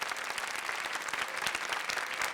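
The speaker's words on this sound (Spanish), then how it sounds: "Este aplauso es para usted también." Steady applause from an audience, dense clapping at an even level throughout with no voices standing out.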